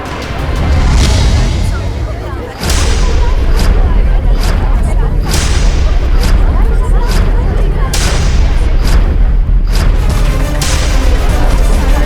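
Repeated loud gunshot-like booms crack out every second or so over a dense, noisy background, with a brief drop in sound early on, in a courtroom.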